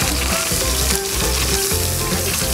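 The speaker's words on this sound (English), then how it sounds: "Feel the sizzle, baby." Loud, steady sizzling and crackling of steaks frying in a hot pan, continuous throughout with no voices.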